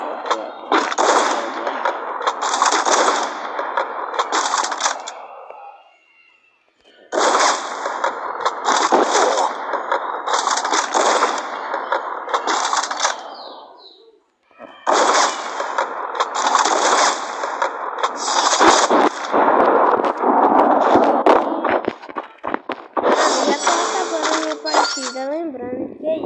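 Bursts of automatic AK rifle fire in a video game, several long rapid volleys separated by short pauses, with someone talking over the shooting.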